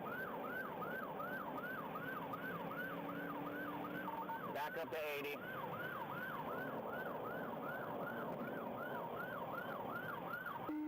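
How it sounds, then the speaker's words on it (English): A siren wails in a fast repeating up-and-down cycle, steady and continuous, with a brief burst of radio chatter and a short spoken line partway through. "the siren wailing a warning that few would heed"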